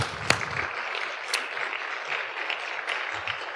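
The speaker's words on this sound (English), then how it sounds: "Let's give him a round of applause" An audience applauds in a school board meeting as the new elementary school principal is welcomed up: steady, dense clapping that holds at an even level throughout, with a few sharper claps standing out near the start.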